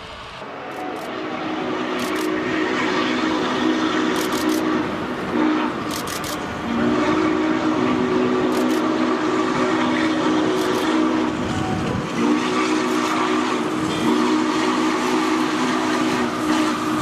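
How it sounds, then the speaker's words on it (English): A DCC-powered model of the Norfolk & Western 611 Class J steam locomotive rumbles steadily with repeated whistle blasts, its chuffing and mechanical hum continuous throughout, fairly close. "DCC-powered steam locomotive, the Queen of Steam, the Black Beauty"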